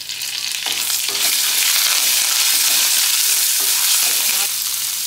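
Grated ginger, cumin seeds and curry leaves frying in hot oil for amla rice: a loud, dense sizzle and crackle right up close, with faint stirring scrapes throughout and no voices.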